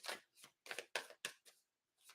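Tarot cards being shuffled in quick bursts, seven short papery riffles in an uneven rhythm with brief pauses between, close and soft.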